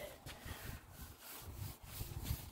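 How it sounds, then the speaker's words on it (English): An old brush scrubs wet wooden decking in quiet, rhythmic back-and-forth strokes with a soft scratchy rasp, fairly faint and close. "I'll just brush it like that"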